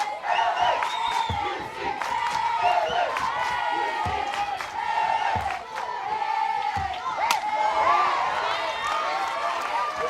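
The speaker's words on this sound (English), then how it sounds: "I just got chills when you just saw the whole crowd stand up and start cheering" Softball stadium crowd at a UCLA versus Florida State game rising to its feet, cheering and whooping loudly and continuously, with bursts of shouts and clapping rolling over a dense roar.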